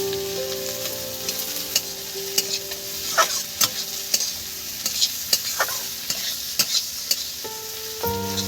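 Boiled potatoes tossed with onions fry in a pan, a low steady sizzle under intermittent scraping and tapping from a stirring spoon, close and moderately quiet, with no voices.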